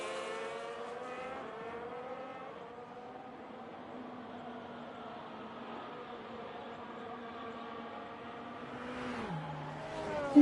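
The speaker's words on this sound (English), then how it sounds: "That happens to be the safety car." A safety car's engine in a sim racing game at Silverstone, run in reverse layout in the rain, drones with a steady, tonal hum that shifts slightly in pitch, then drops sharply and rises near the end, moderately loud with no talking.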